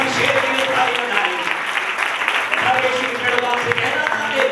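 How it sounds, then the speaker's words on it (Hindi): Church congregation clapping after an anointing prayer call, a busy wash of hand claps mixed with voices and crowd noise throughout, loud and close. "इस अभिषेक के लिए ताली बजाएं।"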